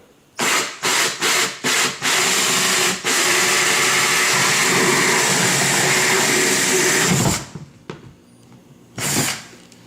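A power drill whirs in several short bursts, then runs steadily for a few seconds with a grinding, cutting texture before stopping; another short burst follows.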